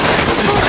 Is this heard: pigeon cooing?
no